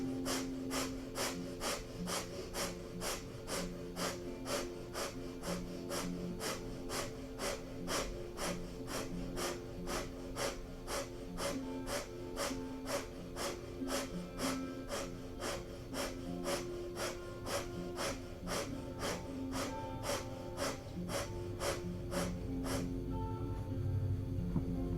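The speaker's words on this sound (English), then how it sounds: "we'll begin a minute of breath of fire." Kundalini yoga breath of fire: fast, rhythmic nasal breathing pumps out in sharp, evenly spaced puffs for the whole stretch, close and steady, with no talking over it.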